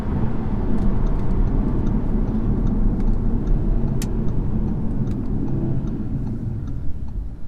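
A 2019 Audi RS3 with an OPF pulls hard under acceleration, a steady, loud in-cabin engine drone that builds as the turbo boost arrives late, with a few faint clicks and ticks over it.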